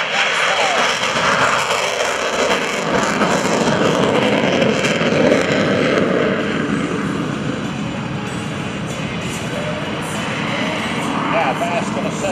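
An F/A-18C Hornet jet flies a go-around after a bolter at a Portsmouth airshow, a loud sustained roar of jet engine noise filling the scene, shifting as it passes, with an announcer speaking over it.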